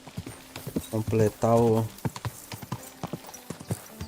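Horse hooves clatter in a quick rhythm in Kingdom Come Deliverance 2, heard beneath someone talking loudly over them in Portuguese.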